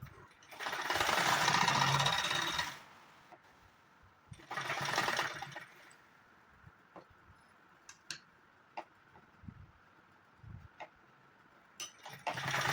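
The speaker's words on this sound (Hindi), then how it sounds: "पहले हम इस पर मशीन से सिलाई लगा लेंगे" A sewing machine stitching a belt onto a saree, two bursts of fast whirring stitches close by, followed by quieter clicks and handling taps.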